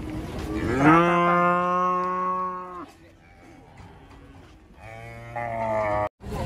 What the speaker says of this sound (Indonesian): Kedatangan sapi monster guys, terbesar saat ini.